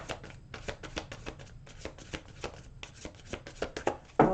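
Tarot cards are riffled and shuffled by hand in a quick, uneven run of crisp papery flicks and taps, close and clear, ending in a brief louder snap.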